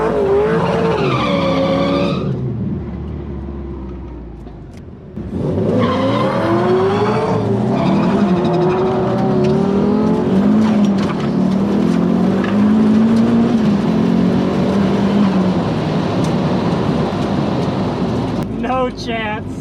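Loud car burnout in second gear, the tires squealing in long sustained screeches with engine revving underneath, briefly dropping off around five seconds before resuming; people shout and talk over it.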